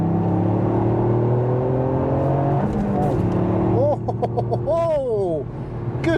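A Toyota GR Yaris hot hatch on Michelin Pilot Sport 4S tyres accelerates hard along a rally-style road, its engine droning steadily and then rising in pitch through the revs, with a voice talking over it.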